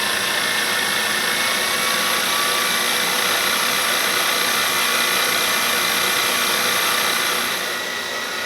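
A milling machine cutting a toolpost clamp at about 1900 RPM: a dense, continuous high-pitched machining whir and hiss, loud and close, holding steady throughout before easing slightly at the very end, with no talk.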